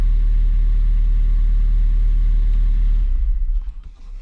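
A car engine fitted with a big S280 turbo runs at a steady, loud, deep idle with strong low rumble, then drops and sputters unevenly toward the end.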